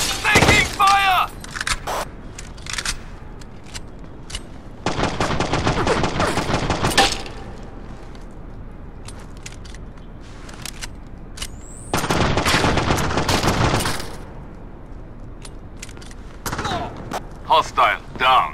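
Gunfire in the Xbox tactical shooter Rainbow Six 3: Black Arrow comes in several dense automatic bursts, separated by quieter stretches of ambient game sound.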